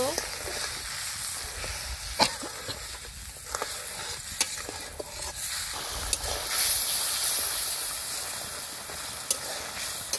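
Spice paste of coriander powder, cumin powder, ground ginger and salt sautés in a pan, crackling and hissing steadily up close with occasional scrapes and taps of stirring throughout.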